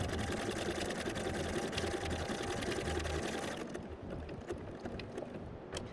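A sewing machine runs steadily through a satin stitch during free-motion appliqué, its fast needle chatter loud and continuous, easing slightly in the second half, with no talk.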